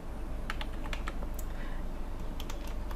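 A command typed on a computer keyboard in drafting software, with a run of quick, light key clicks in an irregular rhythm over a steady low background hum.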